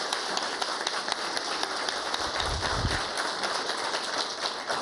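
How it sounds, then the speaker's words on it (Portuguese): Audience applause at a business portal launch event, a continuous hiss-like wash of many hands clapping that blurs into a rain-like texture, steady and fairly distant throughout. "Queria uma salva de palmas a todos que se envolveram."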